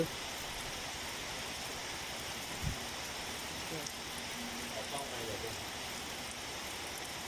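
Steady hiss of rain falling outdoors, constant and moderately loud, with a faint thump partway through and no clear voices.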